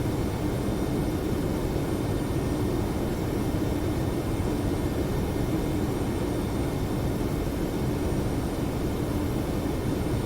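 Airliner engines roar at climb thrust in a flight simulator game, a dense, unbroken broadband rumble that stays loud and steady throughout with no voices.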